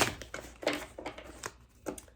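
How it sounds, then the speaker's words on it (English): A quick series of soft papery riffles and slaps, close up, as tarot cards are shuffled in short bursts. "I'll shuffle that one more time really quick."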